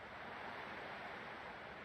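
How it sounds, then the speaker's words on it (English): Ocean waves wash steadily in Honkai Star Rail, a continuous broad rushing surf with no break or talk. "I can still clearly hear the sound of the waves."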